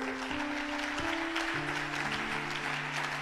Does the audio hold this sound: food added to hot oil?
no